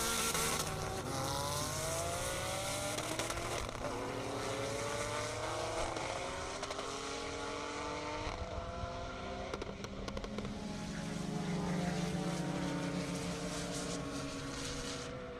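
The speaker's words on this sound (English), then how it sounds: "Mark Cogan in a 2007 Porsche 911 Turbo and Mo in a 2007 Porsche 911 Turbo as well" Two 2007 Porsche 911 Turbos drag race down a half-mile airport strip in Indiana, their loud engine notes climbing steadily in pitch as they accelerate, with overlapping tones and no talk.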